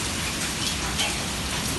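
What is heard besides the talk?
hail falling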